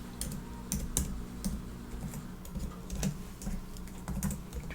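Typing on a computer keyboard during a college class enrollment session, a quick irregular run of crisp key clicks, close and clear, with no voices.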